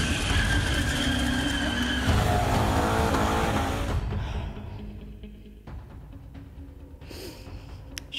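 Cars from the Northern Skids gang hooning through Melbourne suburbs at night, with loud engine roar and tyre squeal that fades off into the distance and leaves faint traffic noise behind.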